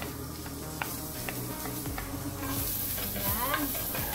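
Onions and garlic sauté with tofu in a hot pan: a dense, continuous sizzle with repeated scraping stirs, close and unbroken, with no talking.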